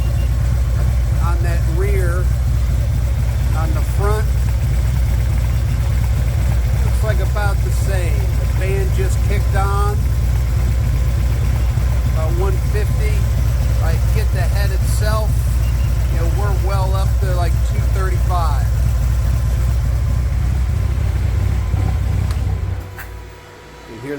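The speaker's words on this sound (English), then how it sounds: "that fan running down to cool the bike down" The cooling fan on a Harley Ultra Limited motorcycle whirs steadily as it runs down after riding, a constant low drone close by under someone talking, fading out near the end.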